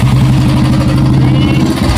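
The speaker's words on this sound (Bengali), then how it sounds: "এই যে বাইকটা স্টার্ট দিচ্ছে।" A used motorcycle's engine idles and runs with a steady, loud, close rumble throughout, without a clear starting crank.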